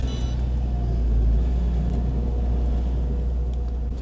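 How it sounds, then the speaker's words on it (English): Steady low engine rumble of an Audi TT Mk1 3.2 V6 on the road in the UK, heard from inside the cabin as a constant, fairly loud drone with no voices. "Let's hop in the car and get going."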